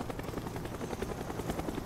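A helicopter in Call of Duty: Black Ops, with steady rotor thumping that holds at a moderate level throughout and no voices over it.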